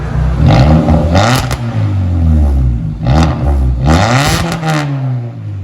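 A 2016 Kia Soul with a 1.6L engine and straight pipes revs up close and loud. Several throttle blips rise and fall as the raspy exhaust note climbs and drops, with no talking over it.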